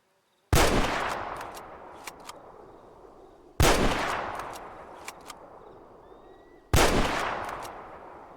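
Remington SPS .375 bolt-action rifle fired in a video game, three sharp, loud shots about three seconds apart, each with a long echoing decay and faint clicks of bolt handling between them.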